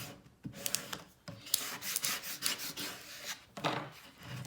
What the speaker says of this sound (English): you'll just want to burnish this on really good